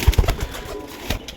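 Rampuri female pigeons in Lahore give soft, low cooing close by, a few brief muffled pulses over faint background noise.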